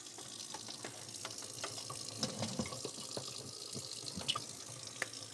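Warm tap water runs steadily into a container while making vegan meat at a kitchen counter, a soft continuous splashing with a few brief clinks, moderately near and without talk.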